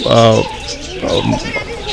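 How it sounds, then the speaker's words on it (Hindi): Birds at a bird sanctuary beside a Buddhist temple give soft, low cooing calls, loud and close, in a couple of short bursts. "पक्षी विहार है, अलग अलग तरह का पक्षी है।"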